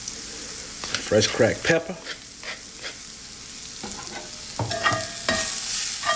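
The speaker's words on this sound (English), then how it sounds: "we'll let those saute until they're golden brown" Golden-brown mushrooms sizzle in a pan and are stirred, with scraping utensil strokes over a steady frying hiss; someone talks briefly over it.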